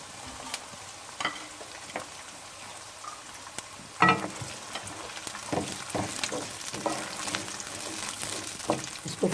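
Peas and onion frying in a pan with ginger and garlic, a soft steady sizzle broken by scattered stirring scrapes and clinks, fairly quiet with no talk.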